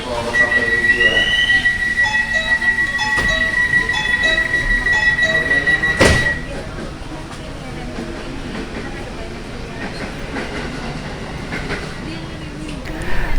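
A KRL commuter train pulls out of Gang Sentiong station toward Pasar Senen, heard from inside the carriage as a steady rumble with a long high whine and a sharp clank partway through, with some talk in the background.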